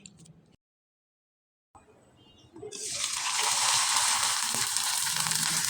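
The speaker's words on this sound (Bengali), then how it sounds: "এখন আপনাদের আমি তেলে ভেজে দেখিয়ে দিচ্ছি" Raw rice pitha dropped into hot oil, starting with quiet kitchen rustles and a brief silence, then a loud, steady frying sizzle that rises sharply and holds to the end.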